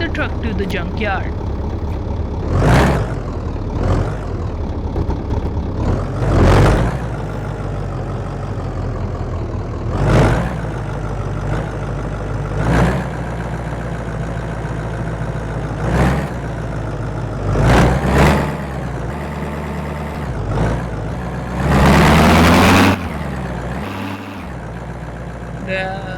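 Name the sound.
junkyard-built truck engine running loudly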